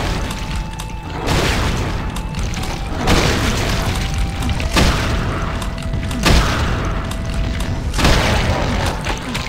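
Heavy booms and thudding blasts from gunfire and explosions in Brutal Doom Eternal, run on GZDoom in a tenement level, recurring about every one to two seconds over a constant loud roar of game noise.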